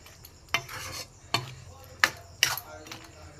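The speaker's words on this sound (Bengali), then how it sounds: "ঘিটা দিয়ে ভালো করে মিশিয়ে দিই" A spoon stirs ghee into egg tadka in a pan, with four sharp scraping strokes against the metal spaced about a second apart over a soft, steady sizzle.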